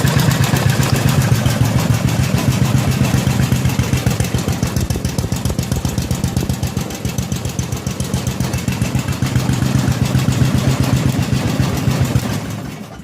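A rebuilt engine on a 1964 Cushman Scotsman golf cart runs steadily after starting, a loud, close, low rapid putter that holds an even idle rhythm for about twelve seconds before cutting off at the end.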